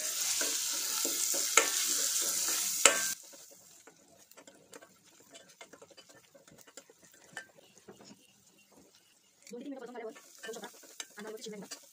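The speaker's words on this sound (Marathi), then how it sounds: "आणि थोडासा गरम मसाला आणि हेही व्यवस्थित परतवून घ्यायचं आहे।" Garam masala is sautéed into methi bhaji in a pan. A loud sizzle runs for the first few seconds, then gives way to quieter, irregular scraping and stirring of a spoon, and the frying picks up again near the end.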